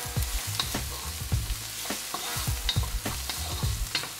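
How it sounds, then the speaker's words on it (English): Onions sauté in a pan for an Iraqi fish-in-herb-sauce dish: a continuous close sizzle broken by a steady run of scraping spoon strokes, with no voices. "So we're going to saute this for about 5 minutes."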